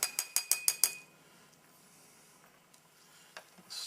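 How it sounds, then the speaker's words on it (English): Six quick metallic clinks of a spoon against a steel cup while stirring instant noodles, close and sharp at the start, then quiet with a few faint clinks after. "Stir it up so those noodles all get hydrated."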